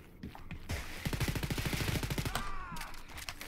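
Rapid automatic gunfire in Wolfenstein: Youngblood, a dense rhythmic burst of evenly spaced shots lasting about a second and a half amid loud combat noise, then more scattered shots.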